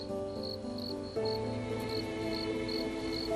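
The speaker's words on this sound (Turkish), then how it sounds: "Ama sadece cırcır böcekler." Crickets chirp in a steady, regular pulse, several insects overlapping in a continuous close chorus with no other sounds.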